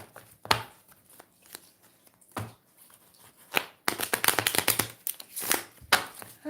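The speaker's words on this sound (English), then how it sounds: "The little cards are shuffling like big girls." Tarot cards shuffled by hand close up: a few separate riffles and taps, then a longer, louder run of fast papery flutters and snaps, with no talking over them.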